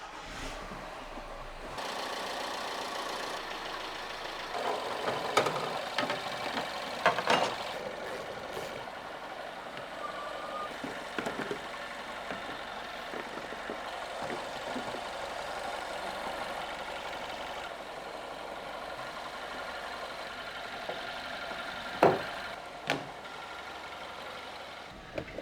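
A BMW F20 hatchback's engine turning over and settling into a steady idle, a continuous mid-pitched hum with a few sharp clicks and knocks standing out, heard close and alone.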